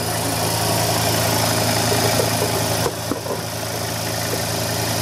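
A Kromrey generator runs steadily as it warms up, giving a loud, continuous engine-like hum with a strong low drone and a brief dip partway through, with no voices.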